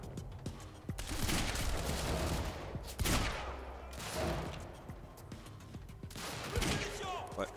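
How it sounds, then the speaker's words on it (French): Minigun fire in the video game Quantum Break, dense rattling bursts of rapid gunfire in several long volleys with brief gaps, loud and close, with a voice speaking over parts of it. "je dois me battre avec mon minigun"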